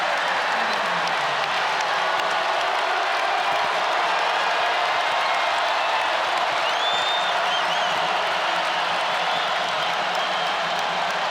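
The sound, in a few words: basketball crowd cheering at John Paul Jones Arena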